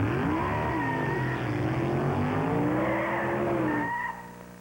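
A NASCAR race car from 1995 roars at high revs, its engine note sliding up and down with skidding tire squeal, loud and continuous before cutting off sharply near the end.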